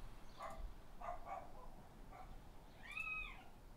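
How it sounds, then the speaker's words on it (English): Several dogs bark and cry in the distance, with short yelping bursts and a longer whining call, faint beneath steady background noise. "Did you guys hear these dogs?"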